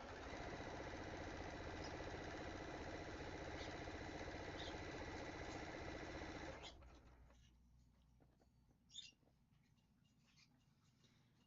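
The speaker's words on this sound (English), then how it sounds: "I'm just going to speed through and be stitching out the rest of these." A sewing machine stitches out a sew-along quilt project in a fast, steady, close-up mechanical whir for several seconds, then stops, leaving quiet room tone with a faint clunk.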